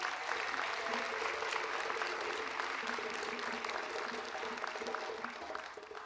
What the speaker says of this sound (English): Can we have another round of applause for our speakers?